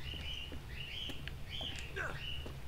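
Birds in the Uncharted: Drake's Fortune video game chirp in short, high, repeated calls. They sit faintly over a steady, noisy ambient background.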